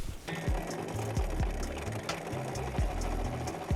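A sewing machine stitches faux leather for a triangular bag in quick repeated bursts, each run of needle clatter stopping and restarting at close range with a steady mechanical hum and no voices.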